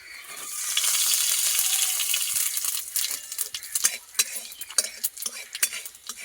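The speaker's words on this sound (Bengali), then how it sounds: "তারপরে আমি সর্ষে ফোড়ন দিয়ে দেবো" Five-spice and whole mustard seeds frying in oil, starting as a steady hiss that turns into quick crackles and pops with metal stirring clinks, close by and without talk.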